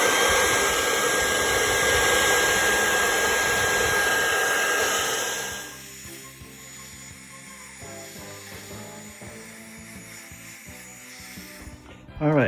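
A hair dryer blows loud and steady on dyed leather car seats of an Oldsmobile Toronado Trofeo for about five seconds, then shuts off, leaving quieter faint rustling and handling noises.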